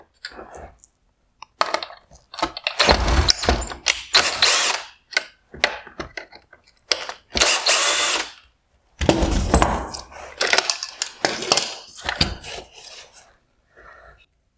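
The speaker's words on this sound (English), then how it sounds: "I will begin by removing the T20 Torx screws holding on the turn signal reflector." A power screwdriver backs out T20 Torx screws from a 2017-2020 Jeep Grand Cherokee halogen headlight, with repeated close bursts of buzzing, rasping drive separated by short pauses and faint plastic handling.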